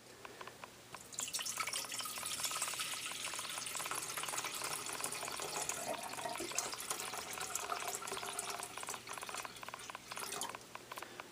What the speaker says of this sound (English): I want to fill a pot 1/3 of the way full of water.